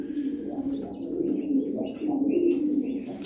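Yellow jumbo Lahore pigeons coo close by in a steady, low, rolling murmur, with a few faint higher chirps over the cooing and no talking.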